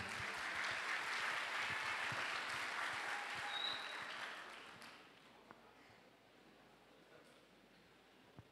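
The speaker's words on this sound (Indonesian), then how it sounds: "kasih tepuk tangan dong" A crowd claps loudly for several seconds at a church youth jamboree opening service, the applause fading away to scattered claps and quiet room noise.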